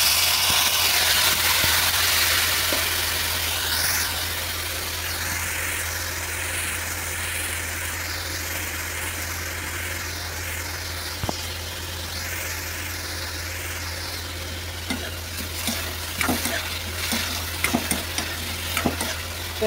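Potato fry sizzles and hisses in hot oil in a home kitchen after a little water is poured in, loud and steady at first and easing slightly, with scattered scraping stir clicks toward the end.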